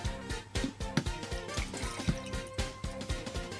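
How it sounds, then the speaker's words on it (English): Liquid with a flashpoint of 12 degrees pours into a jar holding miniature Marine figures, giving a close, continuous trickle broken by irregular sloshing pulses and drips. "pour a load of this into the jar"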